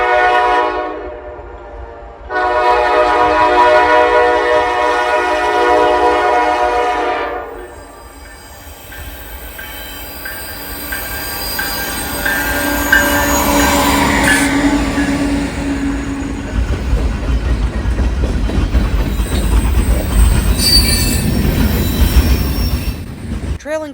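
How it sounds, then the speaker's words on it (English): Mixed freight train hauled by GP38-2 locomotives passing on a cold, snowy day in Marion, with a loud horn blast, rumbling wagons and squealing wheels growing close and steady through the passage. "Trailing second on this mystery mixed freight train was another GP38-2"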